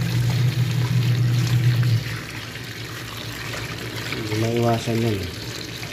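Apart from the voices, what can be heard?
rinsing with running tap water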